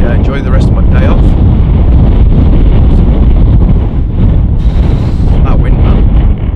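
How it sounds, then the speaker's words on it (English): Strong wind roars and buffets the microphone continuously, a loud low rumble with gusting surges throughout. "it was just way too windy"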